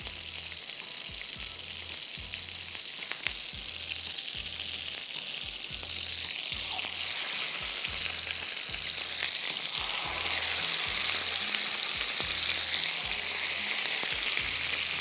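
Chicken pieces fry in a pan with a steady, even hiss of sizzling oil that runs unbroken throughout, moderately loud, with no one speaking.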